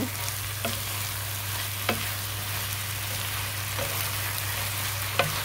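Pancit canton noodles with bok choy, carrot and sweet sauce stirred in a hot pan, a continuous sizzle under a low hum, punctuated by several sharp utensil taps against the pan.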